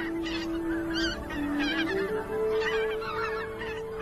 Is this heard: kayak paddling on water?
no